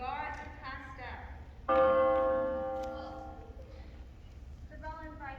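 A single bell struck on stage during a school theatre performance of a Shakespeare comedy, ringing out clearly and decaying slowly, with actors' voices before and after.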